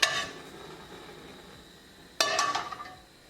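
A frying pan is set down and handled on a gas stove: a sharp metallic clank, a quiet pause, then a second clatter of pan against the grate, close and clear, with no talk.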